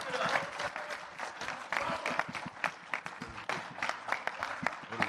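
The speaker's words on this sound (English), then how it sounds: "round of applause for these two." Audience applause at a Misfits x DAZN X Series boxing press conference, a dense, steady round of clapping with crowd noise running the whole stretch, fairly distant and even in loudness.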